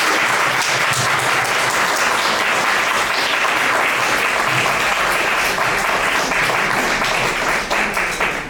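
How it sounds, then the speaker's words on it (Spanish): An audience at a Uruguayan UNI3 talk breaks into sustained, dense applause that stays loud and steady for several seconds before tapering slightly at the end, with a voice faintly under it. "agradecerle nuevamente con un gran aplauso a Silvia."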